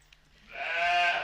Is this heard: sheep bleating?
yes